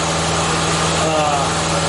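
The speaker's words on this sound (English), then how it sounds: "the air compressor is running at full capacity" An air compressor runs flat out on a 15 amp circuit while cleaning inside a PC case. It makes a close, steady motor drone with a constant buzzing hum.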